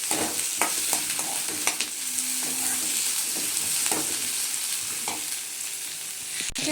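Food dry-roasting in a pan, for ragi mudde and bassaru, with a steady soft sizzle and scraping stirring strokes, spoon taps against the pan and a sharp knock at the end, no voices.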